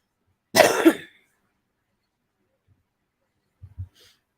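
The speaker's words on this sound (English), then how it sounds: "you may still hear her coughing periodically throughout this live stream" A woman with a cold or bronchitis gives one sharp, close cough burst. After a short silence comes a faint pair of throaty catches.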